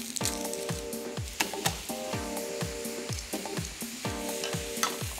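Onions and garlic sauté in a pan for beef stroganoff, a close, steady sizzle marked by regular scraping strokes of a utensil against the pan, repeating in a quick, even rhythm.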